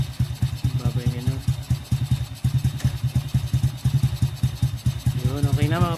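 A repaired SYM 110 four-stroke motorcycle engine runs close by with a rhythmic, chugging idle and a light mechanical clatter, while someone speaks briefly over it.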